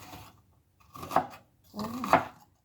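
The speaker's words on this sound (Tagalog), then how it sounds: "Basta mag-slice ako ng onion guys." Two distinct knife strokes slicing an onion on a small chopping board, each a close, crisp chop separated by short silences, fairly quiet and without speech.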